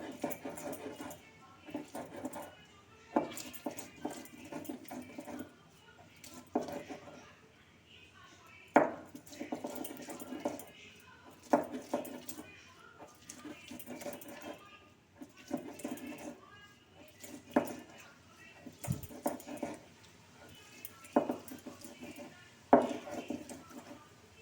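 Garlic, tomato, onion and a few green chillies being ground into a paste by hand, a steady run of rhythmic scraping and thudding strokes repeating close by, with a voice talking faintly over parts of it.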